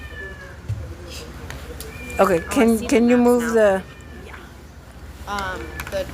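A cat meows a few times while people move about getting ready to leave; its cries are partly mixed with nearby talk.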